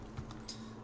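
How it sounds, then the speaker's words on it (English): Quiet typing on a computer keyboard, a few soft clicks and taps in a brief irregular burst, close by and faint. "let me type in high spin, or just high"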